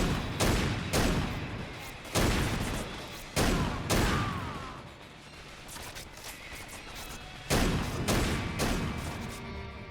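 Bursts of assault rifle fire from the Xbox 360 game Crackdown 2, loud repeated volleys separated by short gaps, with mechanical clatter between them.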